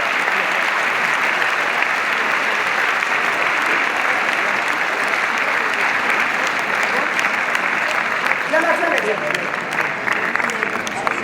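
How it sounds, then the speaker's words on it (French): Sustained audience applause at a charity gala in Paris, dense steady clapping from a large crowd that continues throughout, loud and close, with a few voices rising near the end. "on peut aussi l'applaudir."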